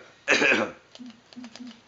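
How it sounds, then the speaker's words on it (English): A single loud harsh cough bursts out near the mic, followed by quieter low throaty sounds and brief murmurs during a Lego Star Wars game session. "sorry for the coughing again"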